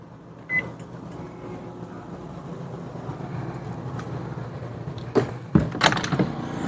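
A microwave oven runs with a steady low hum for several seconds, powered by paralleled Honda EU2200i generators, followed by clunks and a short beep near the end.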